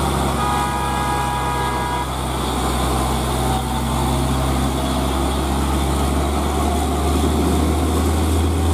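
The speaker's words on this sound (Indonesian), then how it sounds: "Kalau Hino suara mesinnya sangar banget" Hino truck engine labouring up the steep Batununggul climb, a loud, steady diesel drone with a low rumble that holds throughout, rising slightly in pitch near the end, with no voices over it.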